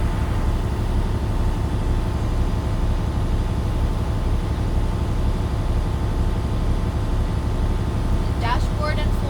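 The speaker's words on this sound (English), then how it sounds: "I'm going to keep on building air until the compressor cuts out and we hear the purge valve open." A truck engine idles with a steady low rumble while its air compressor builds brake pressure, running continuously throughout, with a short higher sound near the end.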